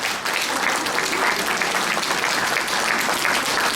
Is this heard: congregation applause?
yes